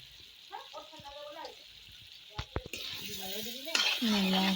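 Food frying in a pan is stirred right after salt is added, with clinks and scrapes against the pan and a sizzle that swells loud toward the end, under what sounds like speech.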